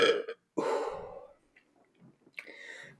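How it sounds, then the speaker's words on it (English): A man's loud, throaty burps, two separate bursts close to the microphone with a brief gap between them, followed by breathy exhales. "got the burps"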